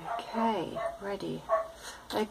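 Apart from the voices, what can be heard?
neighbour's dog barking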